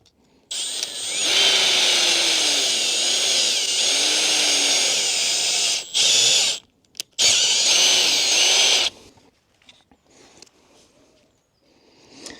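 A power drill with a hex-shank auger bit bores into wood, whining loud and steady for several seconds, cutting out briefly, then roaring again before stopping.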